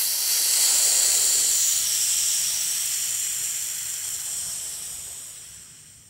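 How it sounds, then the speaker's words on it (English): Pressure vents through a valve on a Firefly UV curing chamber used for molds and models. A loud, close, breathy hiss swells quickly, then slowly fades over about six seconds. "So I'm going to release the pressure on the valve, and then bleed it"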